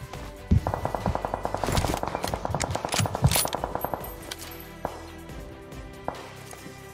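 Automatic weapon fire in PUBG Mobile: a loud, rapid burst of shots rattles steadily for several seconds, followed by a few scattered single shots.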